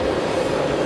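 An older metro train pulls into an underground station with a loud, steady rumbling roar of wheels and cars that fills the whole moment, and no voices.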